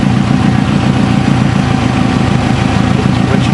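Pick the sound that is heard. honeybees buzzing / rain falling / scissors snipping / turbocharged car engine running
turbocharged car engine running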